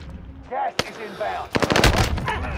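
Bursts of automatic gunfire in Call of Duty Warzone on the Fortune's Keep map: a sharp single shot, then rapid crackling volleys, close and loud, with players' voices talking over the action.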